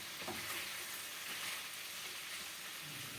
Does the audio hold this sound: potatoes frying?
yes